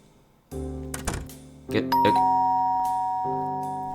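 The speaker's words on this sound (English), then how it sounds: "the doorbell ringing downstairs reminded me" A video game doorbell chimes downstairs in a home, two bright tones ringing out and sustaining over quiet background tones, near and clear.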